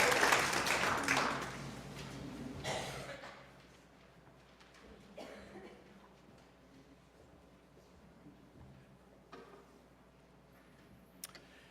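A Unitarian Universalist church congregation breaks into one big clap that swells loudly for about three seconds, then fades to a hushed, quiet sanctuary with only scattered small noises.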